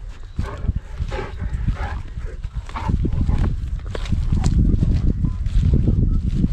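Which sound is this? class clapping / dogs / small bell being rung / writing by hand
dogs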